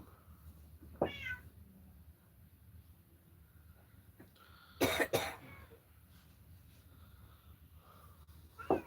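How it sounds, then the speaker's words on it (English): A cat gives a few separate meows spaced several seconds apart, close and fairly loud against a quiet background, with a brief raspy, cough-like sound among them. "I got a cat in the pouch."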